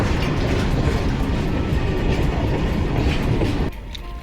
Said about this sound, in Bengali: ওপারে দেখা হবে ট্রেন যাওয়ার পরে